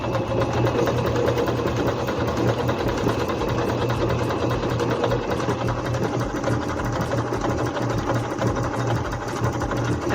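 A Singer C5605 electronic sewing machine runs a steady straight stitch, its motor humming continuously with a fast, even needle rhythm throughout, close and fairly loud with no voices.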